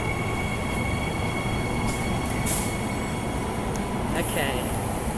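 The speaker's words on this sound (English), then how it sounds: "That's a packed rush hour train." Commuter train at Leederville Station during rush hour, standing packed at the platform with a steady low rumble, hiss and faint brake squeal close by.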